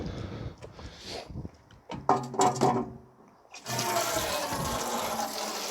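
Water is poured onto strawberry plants in a garden bed, first uneven splashes and trickles, then a steady continuous gushing pour, close and fairly loud.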